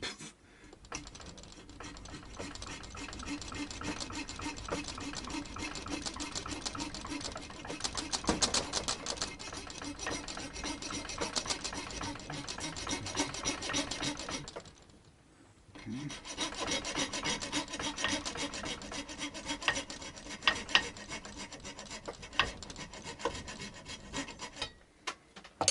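Hand sawing during a guitar re-fret: a fine saw rasps back and forth in quick, continuous strokes close by, pausing once briefly before resuming.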